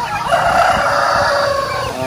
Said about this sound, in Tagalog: May dalawa po tayong bagong manok na galing po dito